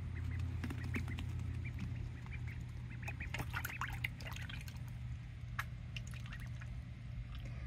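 Pet ducklings, one of them bathing, make small quacks and peeps close by, sometimes several at once, along with light water drips and splashes over a steady low hum.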